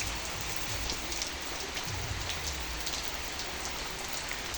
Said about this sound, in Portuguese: que chuvinha boa ao cair da tarde